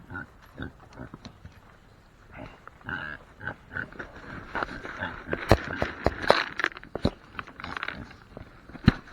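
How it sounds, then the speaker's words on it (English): A farm pig grunts and snuffles close by, with short irregular grunts and rustling movement building toward the end. "What about you, pig?"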